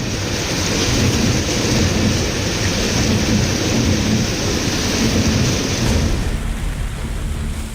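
Torrential monsoon rain pounds Mumbai in a loud, unbroken roar with deep thunder rumbling beneath it, and the wash eases slightly near the end.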